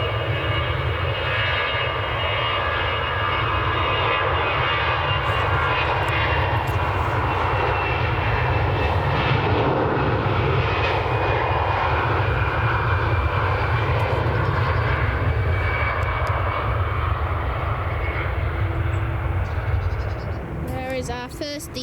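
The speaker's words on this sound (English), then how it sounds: "So here's our departure. EasyJet going to Nice," An EasyJet Airbus A320 jet departs Manchester Airport, its engines a loud, steady roar held throughout with no break.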